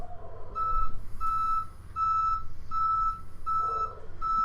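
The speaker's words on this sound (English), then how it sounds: "apparently a truck is backing up right outside my window" A truck backs up outside a window, its reversing alarm beeping in a steady, evenly spaced series of loud tones over a low rumble of engine noise.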